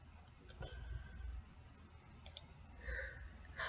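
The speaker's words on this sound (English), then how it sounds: "I'm getting a little tired of typing. We're doing a lot of typing, aren't we?" Typing on a computer keyboard during spreadsheet work, faint scattered key clicks in small clusters over a quiet background.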